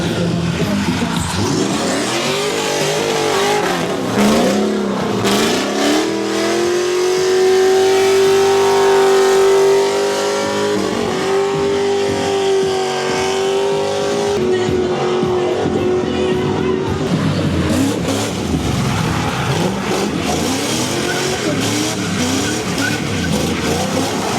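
Cars at the Simola Hillclimb 2025 event rev hard in a loud, continuous roar, with engine pitch rising and falling and tires squealing as they launch.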